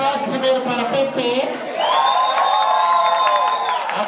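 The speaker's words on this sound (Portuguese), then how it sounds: "aplausos primeiro para Pepe" A nightclub crowd at a drag show cheers and claps loudly, with whoops and high shouts rising in a dense, continuous roar that swells midway and carries through to the end.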